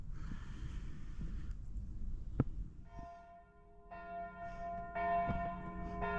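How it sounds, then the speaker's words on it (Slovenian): Church bell of St. Ulrich's church tolling at noon near Šenturška Gora, with clear repeated strikes ringing out and sustaining over a steady outdoor background. "v cerkvi Svetega Urha že zvoni"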